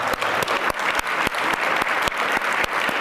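Applause at an awards ceremony for city department directors: a dense, close round of clapping with sharp individual claps standing out, steady and loud throughout.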